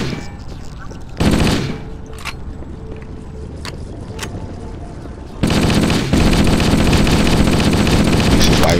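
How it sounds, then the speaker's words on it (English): Automatic assault rifle fire in Halo: Combat Evolved, with sustained loud bursts of game gunfire at the start and end and a quieter stretch of action between them. "This is why I use assault rifles."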